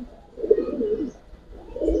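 Pigeons at a pigeon market coo in two short rolling phrases, near and fairly quiet, with no talk over them.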